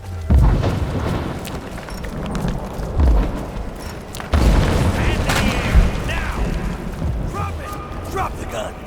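Several heavy booming gunshots go off at irregular intervals amid action noise in the video game Rise of the Tomb Raider, with voices talking between the blasts.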